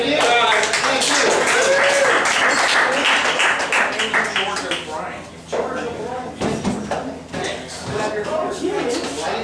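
Audience applause and clapping at a live comedy show, a dense sustained patter of many hands that stays loud, dips briefly midway and swells again, with a few voices calling out over it.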